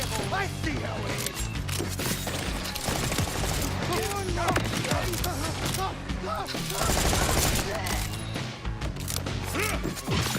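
Dense, continuous video-game gunfire from Borderlands 4, rapid automatic bursts layered with mechanical clatter and impacts, loud and nearly unbroken throughout.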